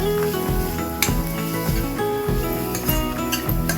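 Prawns and chana dal sizzle in a frying pan as a utensil stirs and scrapes with occasional clinks, heard under steady background music.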